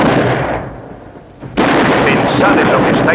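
A cannon fires in a combat drill: a sustained roaring blast tails off into near quiet, then a second sudden heavy boom erupts and rumbles on loudly.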